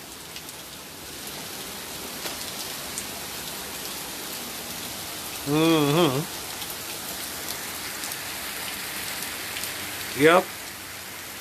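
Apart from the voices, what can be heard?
heavy rain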